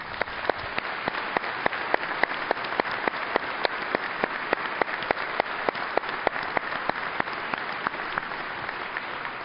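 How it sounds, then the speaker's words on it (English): An audience at the FDIC 2015 fire service keynote breaks into sustained applause, with steady, dense clapping that holds at an even level from start to finish. "I think another round of applause for Steve's dad."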